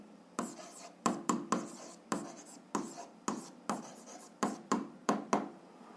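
A pen scratches out algebra equations on paper in a quick run of short, close strokes with brief pauses between them, alone with no talking.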